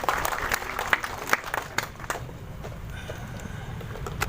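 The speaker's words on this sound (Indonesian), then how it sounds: "Tepuk tangan sekali lagi." Audience at a formal university asset-handover ceremony applauds a referee, with scattered distinct claps at first that thin out and fade into a soft room murmur, heard from some distance at low level.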